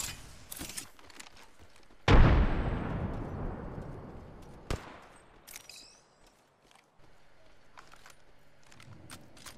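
A frag grenade explodes in Apex Legends with a sudden loud, booming blast that rumbles and fades over a couple of seconds, surrounded by scattered sharp gunshots and other clipped game sounds.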